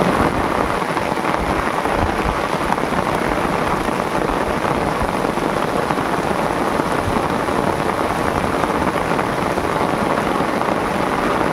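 Heavy rain pours steadily onto a river in the Sundarbans during a fishing trip, a dense, continuous hiss with low rumbling underneath, loud and unbroken throughout.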